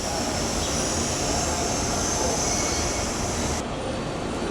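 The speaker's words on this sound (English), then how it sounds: "the other side of that train is a GG1" A train rumbles past steadily and loudly near tracks in the Harrisburg, Pennsylvania area, with a GG1 electric locomotive on the far side, the broad rolling noise filling the whole stretch before its upper hiss cuts off near the end.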